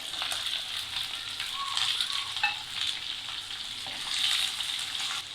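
Onions fry in a pan along with mustard seeds, cumin, and green and dried red chilies for a spicy greens tamarind chutney. A steady, close, bright sizzle runs throughout, with faint stirring and no voices.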